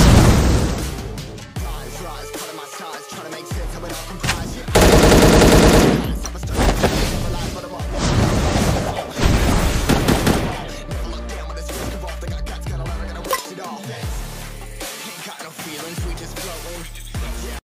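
Rapid M16 rifle fire from the Bullet Angel shooter, dense bursts of sharp cracks with a big loud blast partway through and continuing volleys over a game soundtrack, occasional talk.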